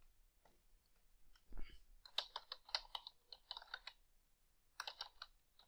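Quiet bursts of clicking on a computer keyboard, irregular keystrokes separated by short pauses.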